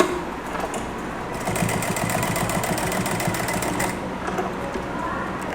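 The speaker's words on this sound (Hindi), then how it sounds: "सिलाई के ऊपर ही सिलाई चलाऊंगी" A sewing machine stitches over an existing seam while making a designer neckline, a close, fast mechanical whir of needle strokes. The rhythm picks up partway and then eases, with a faint voice now and then.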